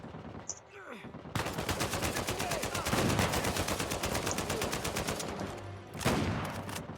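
Rapid automatic gunfire from the video game Uncharted 4, a steady fast rattle of shots running almost without pause, with a brief heavier burst near the end and a voice muttering faintly underneath.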